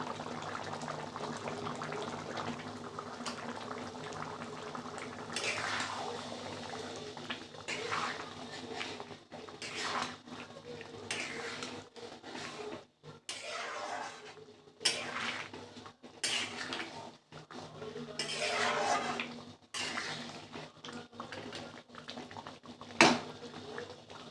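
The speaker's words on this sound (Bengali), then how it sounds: "দেখো আমার গ্রেভিটা ভালোভাবে ফুটে গেছে" Mutton curry gravy bubbling in a pot with whole spices, a soft simmering burble broken by repeated clinks and scrapes of a metal spoon against the pot.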